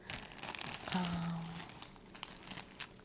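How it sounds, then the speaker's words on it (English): A chip bag crinkles close and soft in a quiet ASMR setting, with irregular rustling handled throughout and one sharper crackle near the end. "I don't like the crinkly sound, but you guys might like the crinkly sound."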